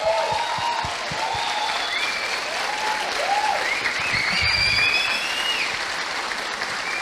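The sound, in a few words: applause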